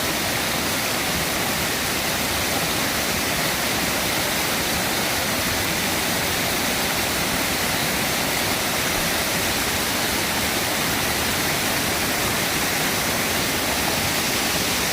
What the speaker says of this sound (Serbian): Potok u kome verovatno ima pastinki.